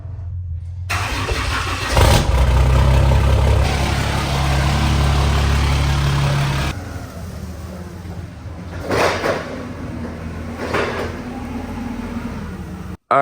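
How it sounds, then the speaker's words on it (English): A forklift engine cranks and catches, then runs with a loud steady drone for several seconds before dropping off to a lower idle with scattered clanks, moving an axle in a shop. "I'm gonna bring the axle over on the forklift real quick"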